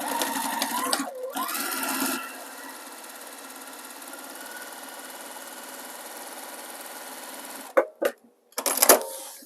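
A sewing machine top stitches a fabric sewing machine cover: a loud whirring run at first, then a long, steady, quieter mechanical hum, ending with a few short bursts of stitching close by.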